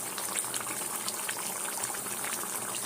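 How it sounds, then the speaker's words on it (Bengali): Chicken marinated in curd and fennel bubbles in a pan with a steady, close, dense sizzle and boil that hisses without pause and has no voices over it. "এইভাবে ফুটছে"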